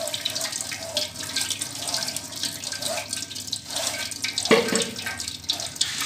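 Homemade almond milk streams through a sieve into a container below, a steady trickling, splashing pour that continues without a break, with a brief stronger splash near the end.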